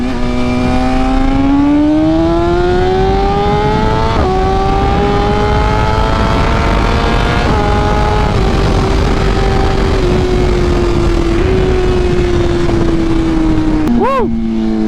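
A BMW M1000RR motorcycle accelerating hard on a pull, its engine note climbing steadily through the gears with brief dips at each shift, loud and close throughout.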